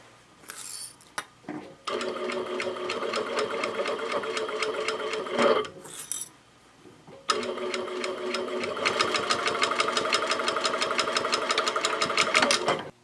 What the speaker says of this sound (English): This is an industrial straight stitch machine